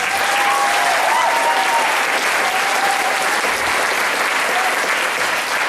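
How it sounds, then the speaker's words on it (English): A crowd at a high school spring band concert applauds steadily and loudly, the clapping sustained throughout with no break. "Give a clap for Alex."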